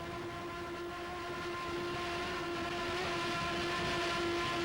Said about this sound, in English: The scream of the Lamborghini engines and the roller props biting into the water as Steve Curtis and Leonardo Poli head down